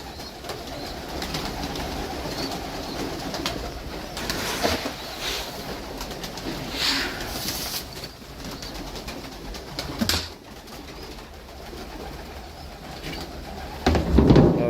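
Pigeons being given grain and water in Saudi Arabia coo and flutter in a lively, continuous chorus nearby, with scattered wing flaps and shuffling throughout.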